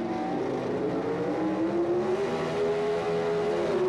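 Drag racing cars launching from the starting line at the 1978 NHRA Summernationals, a loud sustained engine roar whose pitch climbs steadily as the cars accelerate away.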